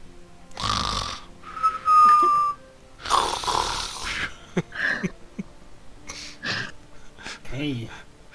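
Tabletop role-playing game players imitate snoring during a long rest, with several exaggerated snores, wheezy whistles and gasps from different voices alternating over a few seconds.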